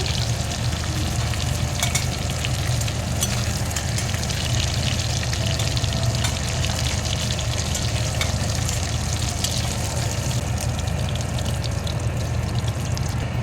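Fish heads frying in oil give a loud, continuous crackling sizzle, with bursts of popping and no voices.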